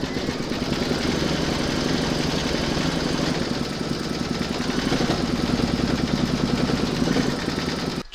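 A home embroidery machine stitches a round into fabric held in a hoop while making an Easter chick bunting, giving a steady, continuous mechanical whirr and rapid needle rattle at close range with no talking.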